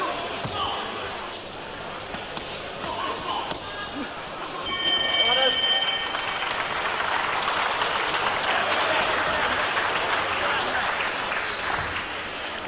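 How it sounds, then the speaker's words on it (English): Polite applause from the crowd at a 1999 Commonwealth title boxing bout between rounds, a moderate wash of clapping amid arena noise with a short clatter partway through. "a little bit of polite applause there"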